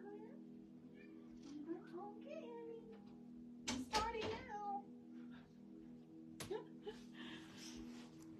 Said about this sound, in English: Now, my kitty's meowing, so I'm going to let him in before I start the meditation so that he doesn't interrupt it.